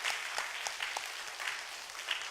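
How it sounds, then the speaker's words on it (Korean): Church congregation applauding its teachers, a steady wash of many hands clapping with no voices over it, fairly even in loudness throughout. "우리 정말 감사의 마음을 담아서 한번 뜨거운 박수로"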